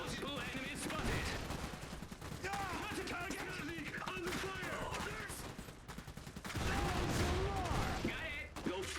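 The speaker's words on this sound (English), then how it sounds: "it's a suppression machine gun unit after all" Rapid machine gun bursts and dense gunfire from a suppression machine gun unit in the Iron Harvest strategy game, a constant loud battle din with someone talking over it throughout.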